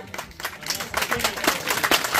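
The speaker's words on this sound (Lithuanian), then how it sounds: "Pasrepetuokim, ką plosim." An audience claps together in rehearsal at an outdoor accordion festival in a Lithuanian village, uneven bursts of hand claps building in density, with a voice talking over them.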